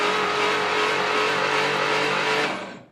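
Engine of a 1959 Studebaker Lark, sitting 36 years and without spark plugs, cranking over in a dense steady churning whir for over two seconds before it cuts off, close and loud.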